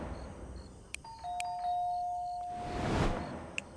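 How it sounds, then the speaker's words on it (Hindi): A doorbell chimes with a clear two-tone ding-dong, ringing out and fading in a quiet room, followed by a soft whoosh and a faint click. "सबसे पहले तो मैंने डोरबेल बजाई थी।"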